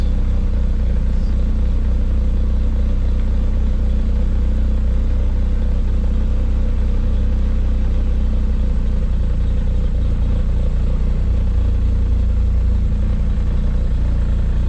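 A truck engine idles around 900 to 950 rpm with a low, steady rumble and a choppy, slightly uneven, lumpy pulse, running continuously without pause.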